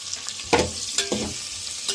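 Tomatoes and onions fry in a pan for Mysore-style pulihora. A steady sizzle runs under several short scraping stirs of the spoon.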